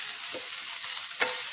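Onion fries in a pan with a dense, even sizzle throughout, and a spoon scrapes through it twice in brief strokes, with no talking.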